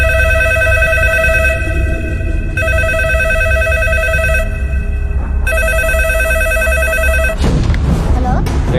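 A telephone rings in a Telugu movie scene, repeating electronic ring bursts in a steady on-off pattern over a continuous background score, then cutting off near the end.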